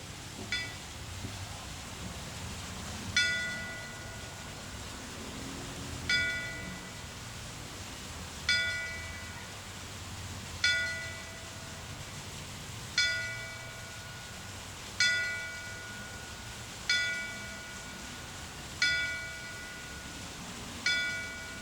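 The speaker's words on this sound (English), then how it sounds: "We'll now have this sounding of the bells." Memorial bells at a September 11th ceremony ring out in slow, evenly spaced single strikes, about nine tolls each fading away before the next, against quiet outdoor ambience.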